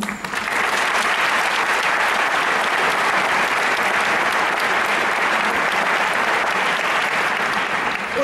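A full theater audience in Prague's Karlin Theater breaks into loud, sustained applause, a dense wash of clapping that holds evenly for several seconds.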